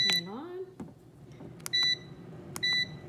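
A food dehydrator beeps as it is switched on and set, two crisp electronic beeps spaced about a second apart, close and clear after a person briefly speaks.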